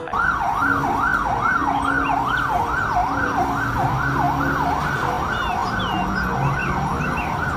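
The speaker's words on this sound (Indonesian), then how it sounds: "kalau yang ini mobil pemadam kebakaran" A toy fire truck's continuous wailing siren rises and falls rapidly in a steady cycle, loud and close, with faint background rumble underneath.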